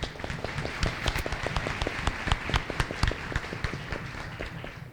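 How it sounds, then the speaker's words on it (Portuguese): An audience claps steadily for administrator Wagner Siqueira at a regional administration lecture event in Teresópolis. The applause is a dense, even patter of many hands at moderate volume, with no voices over it. "Por favor, uma salva de palmas para ele."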